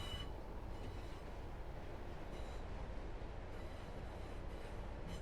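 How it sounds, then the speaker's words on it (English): Train Sim World 5 train rolling along rails on the Fife Circle line, a steady low rumble with faint wheel noise, continuous and quiet. "Got a train in the station."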